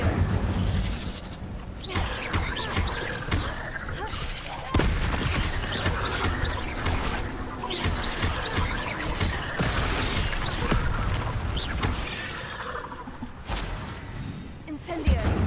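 Fire spell blasts cast over and over during a spider fight in Hogwarts Legacy, loud repeated explosive bursts in a dense, continuous barrage of game combat, with someone talking over it.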